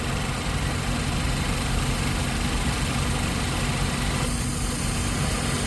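Ford Focus EcoBoost with a throttle actuator stuck closed, idling steadily after starting: a loud, continuous low engine drone with constant vibration throughout and no voices.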